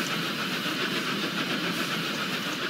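Train rolling along rails in the Roblox game Steam Age, a steady, dense broadband rumble and rattle that stays loud and unbroken throughout, with no voices.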